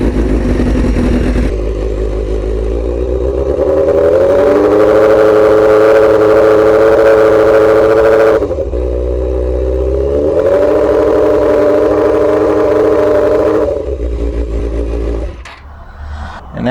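A 2003 Suzuki GSX-R 600 motorcycle with a faulty stator revs up close and loud, climbing twice from a steady idle in long sustained pulls before dropping off near the end, with no talking.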